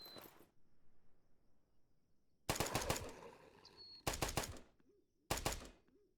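Gunfire in the survival game Night of the Dead comes as three sharp bursts of rapid, close, loud shots separated by quiet gaps.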